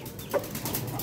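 A prized rooster in a poultry shed gives a single short cluck, near and moderately loud, over a low steady background hum.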